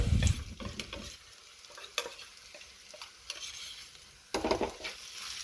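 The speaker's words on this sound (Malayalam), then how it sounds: "നമ്മുടെ മസാലയൊക്കെ വഴന്ന് വന്നിട്ടുണ്ട് കേട്ടോ. ഇനി ഞാൻ അതിനകത്തോട്ട് മഞ്ഞൾപ്പൊടി ഇടുവാണേ." Masala for a kilimeen fish curry fries in a pan with turmeric and chili powder as a spoon scrapes and stirs it, giving repeated close scraping strokes over a soft sizzle, with a louder burst near the end.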